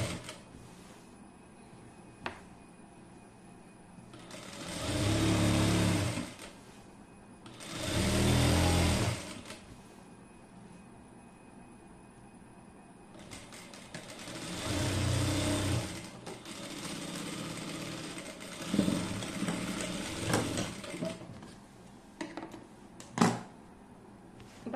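A sewing machine runs in several bursts, stitching a seam on a six-piece skirt. Each burst is a whirring run of a few seconds, with quiet pauses and small handling clicks between them.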